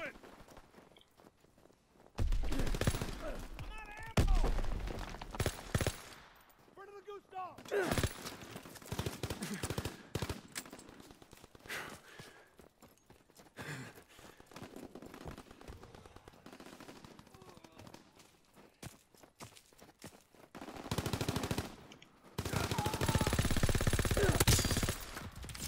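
Bursts of automatic weapon fire and scattered gunshots in an online Call of Duty: WWII match, loud and intermittent, with a heavy sustained barrage near the end and speech between the bursts.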